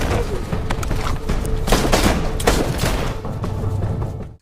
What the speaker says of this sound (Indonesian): Jack mampu membalikan keadaan dengan merebut pistol dan langsung menembaki mereka di sana.